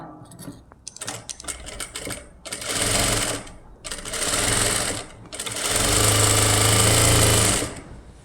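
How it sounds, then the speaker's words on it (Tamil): A sewing machine stitches a quarter-inch seam on a lined blouse, running loud and steady in three bursts that lengthen toward the end, with short pauses and handling noise between them. "இப்படி வச்சுக்கோங்க வச்சு ஒரு தையல் கால் இன்ச்சில் கொண்டுட்டு வாங்க"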